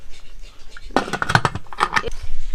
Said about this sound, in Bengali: স্ট্যান্ডটা বসিয়ে দিলাম, ঢাকনাটা ঢেকে দাও